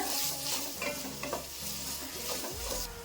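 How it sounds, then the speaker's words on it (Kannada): Chopped onions sizzle in hot oil with mustard seeds and curry leaves for a vegetable kurma, a steady close frying hiss with scraping stirs and a clank near the end. "ಈರುಳ್ಳಿನ ಸ್ವಲ್ಪ ಬಾಡಿಸ್ಕೊಂಡ್ಬಿಡೋಣ."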